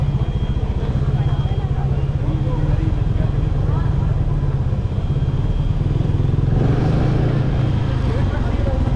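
A motorcycle rides a mountain road through NathiaGali and Ayubia, its engine droning steadily and close throughout with wind and rattling, while riders talk in Hindi over it.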